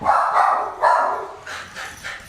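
A dog barks and yips several times in quick bursts, fairly close, with short pauses between the calls.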